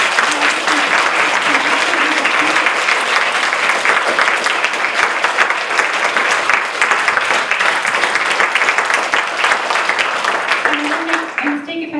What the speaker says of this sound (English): please give a big applause to our authors and to our chair